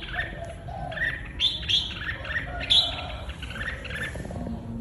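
A red-whiskered bulbul sings close and loud, giving bright chirps and warbled phrases in short bursts that repeat across the whole stretch, with no voices.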